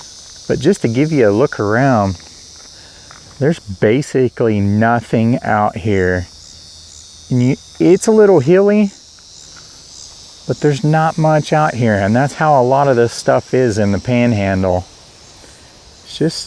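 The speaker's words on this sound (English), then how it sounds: "You can hear the birds chirping, the bugs buzzing, the grasshoppers kind of zipping through the air." Insects and crickets buzz in a steady high drone across open, hilly Oklahoma Panhandle countryside at a rural cemetery, continuous beneath someone talking for most of the clip.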